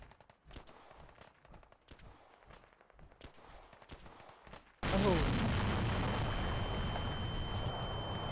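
Pistol fire in Fallout 4, a calibrated defense pistol: a string of sharp shots at first, then a sudden loud, sustained burst of gunfire and explosions with a steady ringing tone over it.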